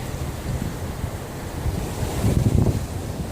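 Ocean surf and gusting wind on a Southwest Florida beach, a continuous rushing wash with a wave swelling louder near the end, wind buffeting the microphone, no voices.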